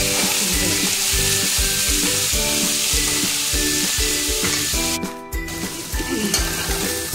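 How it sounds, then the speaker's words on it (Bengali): Young jackfruit seasoned with salt and turmeric sizzles loudly in a pan, a steady crackling fry broken by rhythmic stirring scrapes, with no talking. "লবণ দিলাম হাফ চামচ, হলুদ দিলাম হাফ চামচ, ভালো করে ভেজে নিয়ে"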